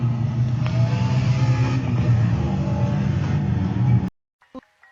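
A BMW 330d car engine in a driving simulator video game drones steadily at low pitch with a faint whine, then cuts off abruptly into near silence broken by brief clicks.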